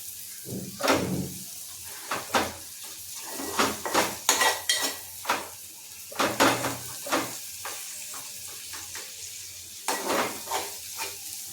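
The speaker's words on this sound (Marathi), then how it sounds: "वाटण छानपैकी मिक्स करून घ्यायचं." Ground masala paste stirred in a pot for fish curry, a spoon scraping and knocking against the metal in irregular bursts over a faint sizzle, close and fairly loud, no speech.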